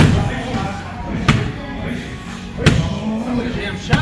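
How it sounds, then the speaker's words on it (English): Elbow strikes land on Muay Thai heavy bags in a gym: two loud, sharp thuds a little over a second apart, close by, over a steady background of gym noise and faint voices. "I'm doing elbow strikes on the heavy bags."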